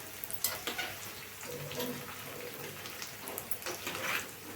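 Pieces of taro root fry in a pan with a continuous hissing sizzle, while a spoon occasionally turns and scrapes them.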